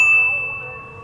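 A single bright bell-like ding rings out and slowly decays, with a faint sustained tone lingering underneath.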